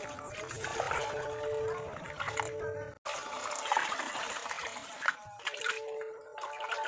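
Water pours and splashes into a bowl of rice in a steady rush, briefly breaking off and resuming, close and moderately quiet.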